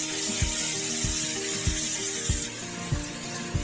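Soy sauce hits a hot pan of chilli chicken and briefly sautéed vegetables, giving a steady, close sizzling hiss with soft periodic knocks from stirring.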